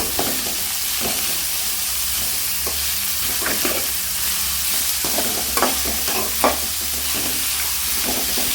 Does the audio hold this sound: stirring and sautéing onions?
yes